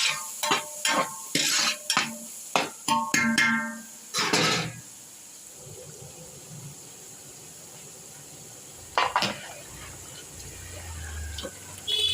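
Paneer frying in a pan for restaurant-style chilli paneer, with a soft steady sizzle and hiss under clattering stirring strokes and voices talking over it, then quieter sizzling with occasional scrapes.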